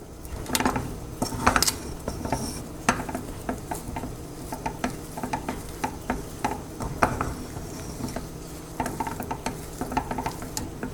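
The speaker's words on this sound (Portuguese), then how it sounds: "E vou misturar nessa farinha" A sturdy spoon works squeezed, grated cassava into flour in a pan over low heat, giving close, uneven scraping and knocking against the pan with soft sizzling beneath, steady and without talk.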